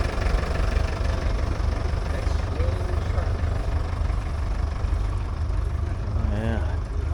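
Antique Model G tractor at a tractor show, its engine idling with a low, rumbling, steady chug up close, while people talk nearby over the running motor.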